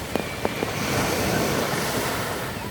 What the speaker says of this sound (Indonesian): ini pun ombaknya lumayan aman guys, nggak besar ombaknya